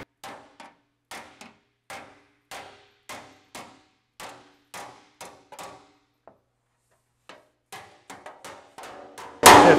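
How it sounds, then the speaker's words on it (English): Repeated sharp hammer blows on sheet metal of an Austin-Healey 3000 ring out at a steady pace, a couple of pauses between bursts, ending in a loud metallic crash. "And swing the hammer."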